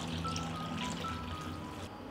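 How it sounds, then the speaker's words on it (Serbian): Cold water pours into a cooking pot holding glass jars on a cloth, a brief close, steady gush and trickle with no voices. "U šerpu sipam hladnu vodu do visine poklopca."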